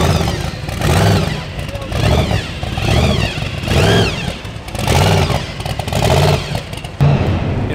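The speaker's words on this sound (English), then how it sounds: "They're mad that everybody's starting their engines." Car engines start up and rev around a SEMA show floor, loud throttle blips rising and falling in repeated waves over a busy background, with people talking throughout.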